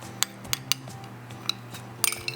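Flaxseed mixture being stirred into wet ingredients for vegan, gluten-free oatmeal chocolate chip cookie dough, with a few sharp clinks of a utensil against the bowl over a low background hum.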